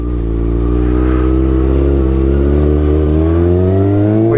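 A 2015 Kawasaki ZX-6R 636 sport bike fitted with a Racefit exhaust, recorded in New York City, revs loudly and close up in a deep, rising engine note that builds steadily over several seconds; no talk.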